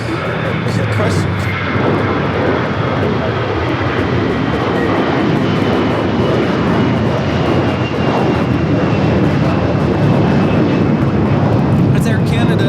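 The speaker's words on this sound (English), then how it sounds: "It's Air Canada 792 taking off to Toronto on the A321." Air Canada Airbus A321 jet taking off at LAX, a steady, loud broadband engine roar that holds throughout without fading, with faint voices underneath.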